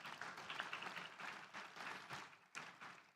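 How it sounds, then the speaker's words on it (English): Graduates applauding at a University of Pittsburgh School of Education spring 2024 commencement ceremony, a faint, distant patter of scattered clapping with uneven bursts and a brief dip near the end. "I really want you as the graduates to give yourselves a round of applause"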